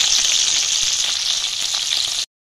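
Black cumin seeds sizzle in hot oil for tel parshe, a loud, steady hissing fry with small crackles that runs for about two seconds and then cuts off abruptly into silence.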